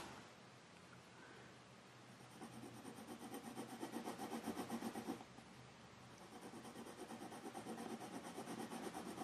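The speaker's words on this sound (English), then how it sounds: "Just so many tractors going past full of grass." Farm tractors loaded with grass pass by one after another, a steady low engine rumble that swells and fades as each machine goes past at moderate distance, with no talking.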